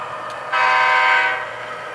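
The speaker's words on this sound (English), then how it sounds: "Honking for the horses again." A single sustained blast of a model train horn on an Athearn GP15-1 locomotive, clear and close, about one second long with quiet before and after.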